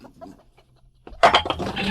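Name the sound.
chickens clucking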